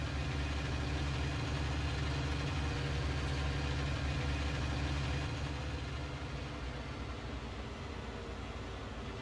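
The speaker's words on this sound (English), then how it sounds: "It's a good throaty engine sound." Tractor engine idling in the Farming Simulator 19 video game, a steady, throaty low rumble that drones on continuously and evenly with broadband hiss, no voices over it.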